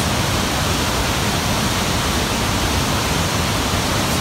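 Waterfalls rushing in the Temagami wilderness, a loud, steady broadband roar of falling water that fills the whole stretch without a break, with no voices over it.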